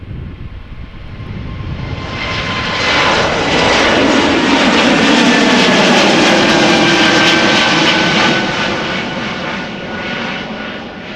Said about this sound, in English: a Dreamliner landing in the background